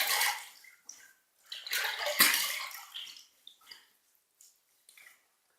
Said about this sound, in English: So, okay, let's rinse.